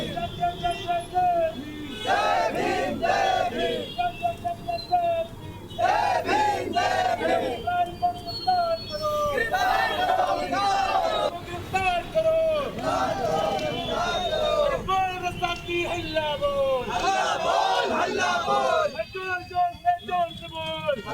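Protesters at a political demonstration in India, a loud crowd chanting slogans in rhythmic bursts, voices rising and falling together over constant outdoor hubbub.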